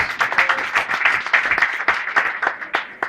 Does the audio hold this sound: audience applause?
yes